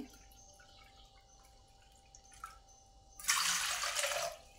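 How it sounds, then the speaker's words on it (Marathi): Water pours steadily into a pot, five bowls' worth, for about a second and a half, a loud splashing rush following a quiet stretch of faint kitchen noise. "मी इथं 5 वाट्या पाणी घेते"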